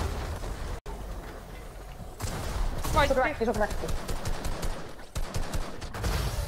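Rapid bursts of Fortnite gunfire crackle under excited talk, with a quick volley of shots in the middle amid game background noise.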